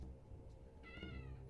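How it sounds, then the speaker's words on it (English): A newly introduced cat meows once at mid-clip, a short, fairly clear call over steady low indoor background hum. "new cat, Patty has met Socks, and she's not happy"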